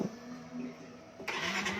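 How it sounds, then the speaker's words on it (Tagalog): A Yamaha Mio i 125s scooter engine cranks and catches, then settles into a steady, fairly quiet mid-pitched running hum close by, with a brief rise in noise as it fires. "So, start natin yung kanyang motor."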